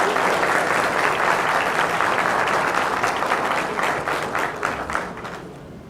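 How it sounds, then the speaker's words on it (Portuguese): Dense, sustained applause fills a hall at a formal ceremonial session, honouring a municipal civil guard choir, loud at first and gradually thinning as the clapping tapers off. "Podemos, mais uma vez, dar uma salva de palmas ao Coral da Guarda Civil Metropolitana"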